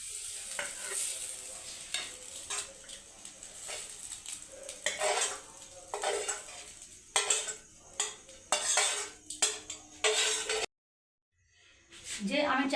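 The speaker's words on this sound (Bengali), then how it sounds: "এবার আমি এই চাউটাকে একটা আলাদা ডিশে ঢেলে" Sautéed chow noodles scraped out of a hot pan into a separate dish, with repeated metal spatula scrapes and clinks over a light sizzle, ending in a brief silence.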